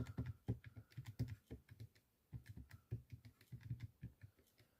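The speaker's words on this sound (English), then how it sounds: "Then you can type in all of your numbers for X" Numbers are keyed into a calculator in quick, soft clicking taps, close and quiet, arriving in short irregular runs with a brief pause midway.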